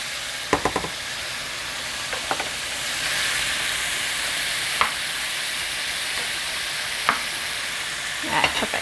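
Shrimp frying in a pan for shrimp scampi, a soft steady sizzle with a few sharp clicks and taps of utensils scattered through, close and moderately quiet with no talk.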